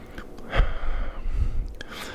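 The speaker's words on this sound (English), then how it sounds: "Nice deep breath" A slow, deep breath drawn in and let out softly, with a couple of breathy rushes close to the mic during a calm, guided relaxation pause.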